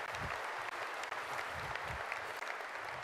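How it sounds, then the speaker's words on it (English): A keynote audience claps steadily, a dense wash of applause that stays even throughout with no voices over it. "Round of applause"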